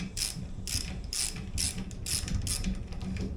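Ratchet tightening the long handlebar bolts on a 1970 Suzuki TC-120 motorcycle, a steady series of close, crisp clicking strokes repeated about every half second, with no talk.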